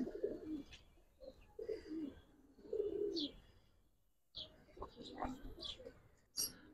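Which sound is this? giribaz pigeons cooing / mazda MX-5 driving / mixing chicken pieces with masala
giribaz pigeons cooing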